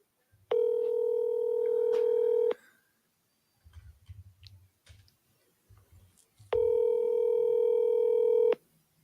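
A phone rings out on an outgoing call: two long ringback tones about two seconds each, separated by a pause with faint clicks and low handling noise, clear and close.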